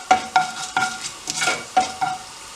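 Fennel seeds sizzle in hot frying oil for beetroot varai, with a bright hiss broken by a series of rhythmic, close scraping stirs of a spoon in the pan and no talking.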